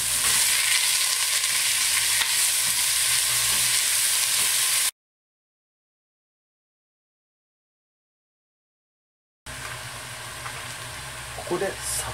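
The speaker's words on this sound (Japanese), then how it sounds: "オリーブオイルを少し足し、玉ねぎとニンニク、これを入れて炒めます。" Onion and garlic stir-fried in olive oil for a chicken curry, a loud, close, continuous sizzle that cuts to several seconds of silence before the frying resumes, with a few light utensil clicks near the end.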